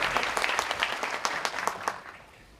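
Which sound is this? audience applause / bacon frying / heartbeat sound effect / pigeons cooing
audience applause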